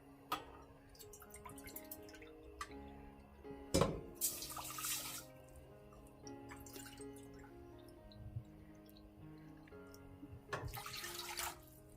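Water pours faintly into a cooking pot for instant grits, a soft trickle with drips and splashes that swells in a few brief louder surges amid quiet kitchen clatter.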